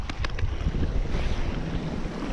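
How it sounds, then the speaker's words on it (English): Strong gusting coastal wind buffets the microphone throughout, a loud continuous low roar with surging gusts at a shoreline while lure fishing for bass in January. "Now the wind's a bit of a nightmare today."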